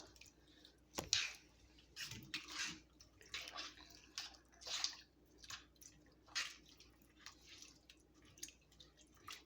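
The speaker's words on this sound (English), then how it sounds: "we're just going to stir this up" Homemade baked beans stirred in a pot, giving soft wet squishing and scraping strokes that repeat irregularly, close by and fairly quiet.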